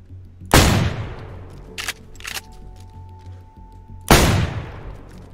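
Suppressed M4 rifle fire in the survival game DayZ: two sharp, loud reports about three and a half seconds apart, with a few fainter clicks and a brief tone between them, no voices.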